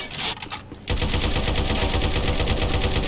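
Rapid, loud bursts of weapon fire from a shotgun in the Doom mod Slayers Rampage, with a steady stream of dense blasts that follows a brief pause and keeps going close up without letup.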